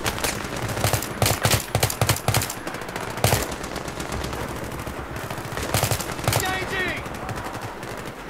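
Gunfire in the battle shooter Battlefield 3 rattles out as repeated machine-gun bursts and single cracks, some close and sharp, others thinner and farther off, with brief lulls between volleys.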